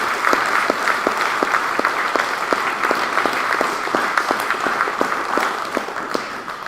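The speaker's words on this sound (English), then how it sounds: "So I'd really like to give them all a round of applause right now if we could." Applause from an audience at a Camrose Rotary event for 644 Air Cadets squadron, steady dense clapping that holds at an even, fairly loud level for several seconds with no speech over it.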